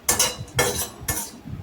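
Spices for homemade garam masala dry-roasted without oil in an iron kadhai, with a metal spatula scraping and clinking against the pan in three distinct strokes, close and moderately loud.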